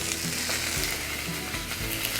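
Peppered ground beef patties sizzle in a frying pan for pepper steak, a steady close crackling hiss with no talk over it.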